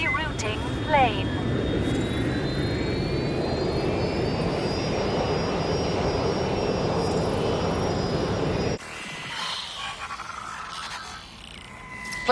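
A jet airplane in the video game Watch Dogs Legion roars steadily overhead for several seconds, a loud, broad engine rush that cuts off suddenly into a quieter scene.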